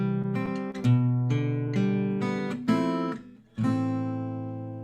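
Clean guitar playing chords squarely on the beat without anticipation, a few ringing strummed chords and plucked notes, close and moderately quiet.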